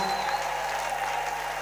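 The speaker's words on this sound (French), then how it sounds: "je veux un tonnerre d'applaudissements" Dense, continuous applause from a church congregation at a church anniversary service, a steady wash of many hands clapping with a sustained tone running underneath.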